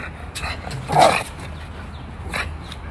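A large dog gives a few short barks and yips in the open outdoors, one louder bark standing out midway, the sounds spaced apart and moderately close.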